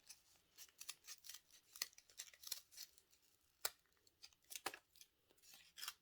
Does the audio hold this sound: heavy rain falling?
no